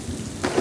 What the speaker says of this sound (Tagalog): Pero Tomas, umuulan pa eh